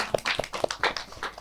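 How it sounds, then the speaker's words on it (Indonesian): A brief burst of applause for a woman at a boarding school anniversary gathering, a few sparse hand claps over about a second and a half. "Tepuk tangan dong buat Mbak Nikma."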